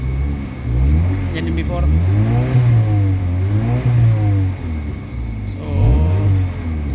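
Kia Pride engine with low power and vibration, revved in rising and falling surges that swell and ease over several seconds, with someone talking over the engine throughout.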